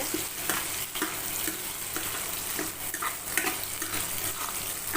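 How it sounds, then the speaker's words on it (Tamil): Eggplant sautéing with dried red chillies in a pan, a close, steady sizzle and crackle broken by regular stirring scrapes and soft clatters. "கொஞ்சம் நல்லா வதங்கட்டும்"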